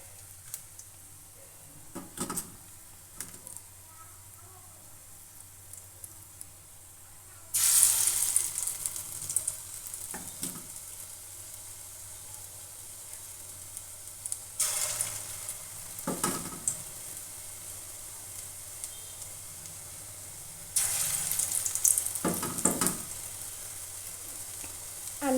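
Food frying one piece at a time in hot, smoking oil over a low-to-medium gas flame, with faint sizzling that swells into louder bursts of spitting crackle as pieces go in, then settles again.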